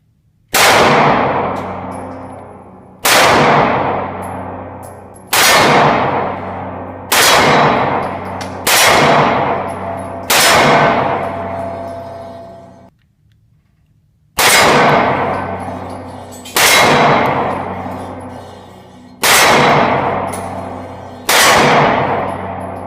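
A Glock 43 pistol fires nine loud, sharp gunshots in a steady rhythm, each ringing out with a long decaying tail, with one brief pause after the fifth shot.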